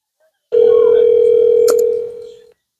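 Telephone call being placed, heard as a single loud, steady dial tone that starts abruptly, holds for about two seconds, then fades out, with a brief click partway through.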